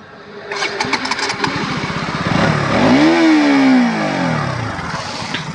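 A KTM RC 200 BS7 motorcycle cranks with a rapid chatter of the starter, catches and fires up with a rising then falling engine note, and settles into a close, loud idle.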